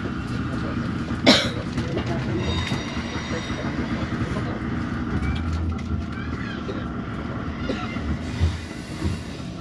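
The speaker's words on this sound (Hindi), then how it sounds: "थोड़ी थोड़ी ट्रैक वाइब्रेशंस भी सुनने को मिल रही हैं" A steady, rumbling hum of track vibration fills the economy cabin of a Haramain high-speed train between Makkah and Madinah, with faint rhythmic clatter and a few brief sharp knocks. Voices murmur softly underneath.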